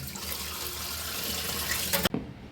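Tap water runs steadily as raw meat is rinsed under it, a continuous close splashing flow that cuts off abruptly near the end.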